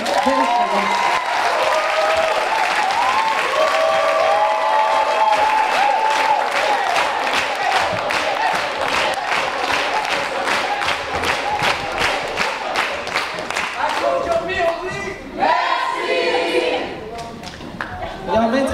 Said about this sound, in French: on peut applaudir toute cette belle ligne